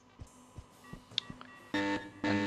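An alarm button is pressed in the stealth game Hitman 2: Silent Assassin, giving a few soft clicks and a short tone, then two loud, buzzy electronic alarm blasts in quick succession, with no talking.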